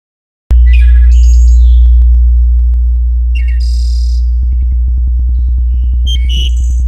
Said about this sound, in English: That's a bird called a wood thrush